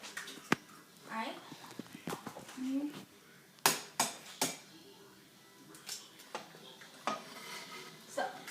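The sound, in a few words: cracking eggs into a bowl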